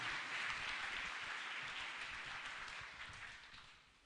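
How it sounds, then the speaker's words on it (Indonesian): An audience applauds a special guest speaker at an agricultural extension public lecture in Indonesia. The steady, moderately distant clapping holds for several seconds and then slowly fades. "tepuk tangan yang meriah untuk narasumber spesial pada sore hari ini"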